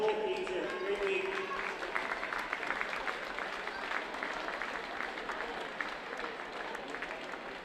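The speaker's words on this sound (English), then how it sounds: "Let's have a big round of applause for both teams here" Crowd applause for both teams at a Canada Ball Hockey gold medal game award ceremony, a steady wash of clapping lasting several seconds, with some background voices mixed in.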